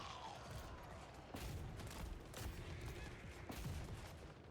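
Quiet, dense battle din from Total War Warhammer 3, with a steady rumble of scattered gunfire and volleys popping in clusters across a noisy, continuous backdrop.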